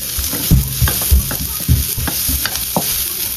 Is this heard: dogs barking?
no